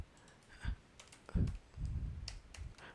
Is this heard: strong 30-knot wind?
no